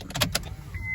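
The electric door mirrors of a Honda Jazz 1.4 i-DSI SE CVT-7 fold in with a short motor whir, heard close up after a couple of soft clicks.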